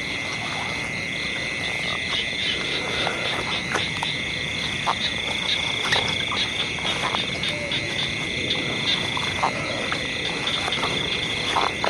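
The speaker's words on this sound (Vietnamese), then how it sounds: "mọi người nghe nhái nó kêu không?" Small frogs croak through a steady night chorus of insects and crickets, a dense continuous din with repeated short calls close by, heard in a rural area during a cobra-hunting outing.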